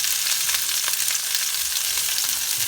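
Peppers and onions sizzle steadily in olive oil in a pan over medium heat. The frying hiss is continuous and close, with small crackles throughout.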